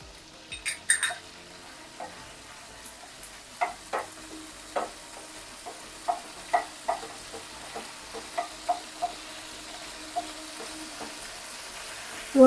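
Chopped garlic with cinnamon, cardamom and cumin frying in hot oil, a steady low sizzle broken by frequent sharp crackles and pops, close and fairly quiet, with occasional light stirring taps and no talking.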